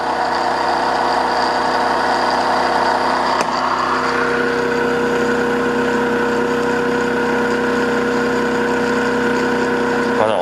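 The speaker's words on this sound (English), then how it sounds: "But the problem is that the motor does not slow down." A series-wound DC motor runs loudly and continuously at high speed on a test bench, giving a steady droning hum with a brief click partway through.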